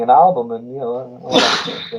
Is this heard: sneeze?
yes